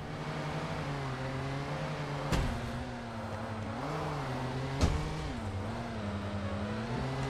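A vehicle in Satisfactory drives with a steady engine drone whose pitch rises and falls with throttle changes, punctuated by two sharp knocks, with no talking.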